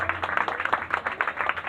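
A church congregation claps loudly and rhythmically in a steady burst of many hands, with a faint background hum.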